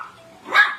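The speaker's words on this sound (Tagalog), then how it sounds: "Tumatahol pa din." A dog gives a single short bark indoors, moderately loud over a quiet room background.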